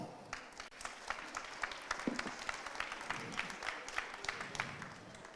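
Audience applause at the Salon de la Pâtisserie 2018 pastry show, a moderate, steady patter of many hands clapping at some distance, fairly quiet and continuous with faint crowd murmur beneath.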